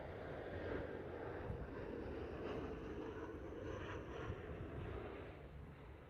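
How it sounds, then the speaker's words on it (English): A Pilatus propeller aircraft drones overhead near Liverpool Airport, a steady, fairly faint broadband engine roar holding for several seconds and easing slightly at the end, with no one talking. "I can hear that Pilatus actually."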